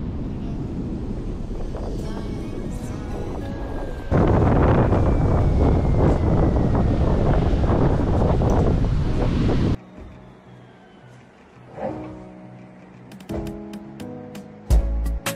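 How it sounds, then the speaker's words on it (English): Strong wind gusting across a beach in Gambia, a loud continuous roar buffeting the microphone for most of the stretch, with surf beneath and someone talking over it; the wind drops away near the end. "it's hella windy."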